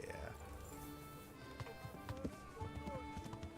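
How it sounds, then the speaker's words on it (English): A horse galloping in Path of Exile 2, with rhythmic clip-clop hoofbeats under game music and effects, and people talking over it. "On our fancy new horse"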